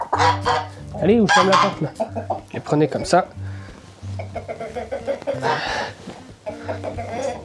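Farm ducks raised for foie gras squawk and quack in agitation while being caught and held by the wings, loud and close, under a person giving spoken instructions.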